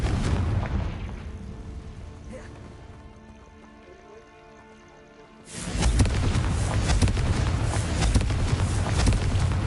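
A Confringo fire spell explodes in the Hogwarts Legacy video game, a loud sustained blast that bursts in after a quieter stretch and roars on steadily to the end, close and dense.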